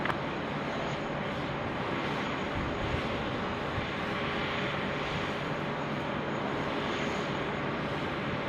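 An Airbus A320 on final approach to runway 16 right at Sydney Airport produces a steady, broad roar of jet engine noise that holds at a constant level throughout, with no voices.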